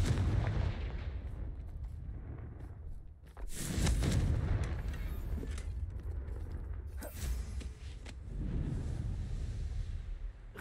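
A Confringo explosive spell in Hogwarts Legacy gameplay: booming blasts and rumbling impacts layered over a dense game soundscape, with a strong burst near the middle and further crashes later.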